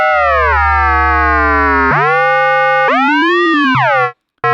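A loud synthesized FM sine tone from the Reaktor Blocks DWG oscillator, held steady and then sliding through pitch glides between notes, with bright stacked harmonics and a brief drop to silence at the end.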